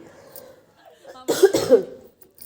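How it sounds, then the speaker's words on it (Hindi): A few harsh coughs burst out close by after a quiet moment, with faint background murmuring before them. "खांसी भी हो रही है मुझे बीच बीच में।"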